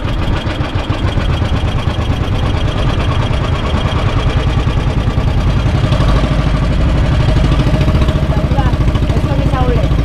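The engine of a small wooden outrigger boat runs steadily nearby, a loud, fast rhythmic chugging with a continuous pulsing beat, while someone talks over it.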